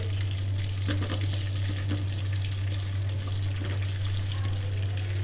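Two medium-sized onions frying in hot oil in a pan, a steady close sizzle with faint stirring scrapes over a constant low hum, and no talking.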